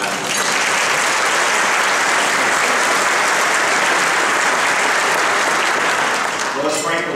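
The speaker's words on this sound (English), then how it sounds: "Let's give a round of applause for Adam." An audience at a Forum Club luncheon breaks into sustained, dense applause for a former House Majority Leader, steady and full throughout, with a speaking voice briefly heard near the end.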